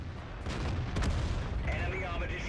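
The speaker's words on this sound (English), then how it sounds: "It's going to take a little while for our shell to get there" An artillery gun fires in World of Tanks, a loud deep boom with a sharp crack, followed by rumbling battle noise.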